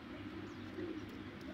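A red-eyed pigeon from a breeding pair gives soft, low, continuous cooing, faint and steady throughout with no voices.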